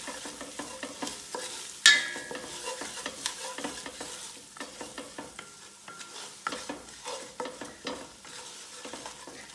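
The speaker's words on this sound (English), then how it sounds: "Now you give it a stir." Spoon stirring paprika, turmeric, pepper and salt through a hot pan, giving soft repeated scrapes and shuffles over a faint sizzle, close and fairly quiet with no voices.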